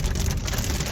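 Torrential rain pounds a moving car in a dense, loud, continuous hiss of drops hitting the body and glass, with low road rumble underneath.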